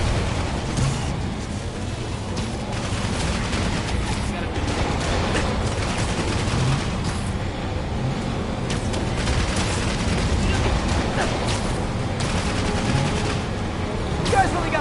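Sustained gunfire from enemies in Marvel's Spider-Man video game: dense, continuous rattling bursts and booms that fill the whole stretch at steady loudness, with a voice talking over parts of it.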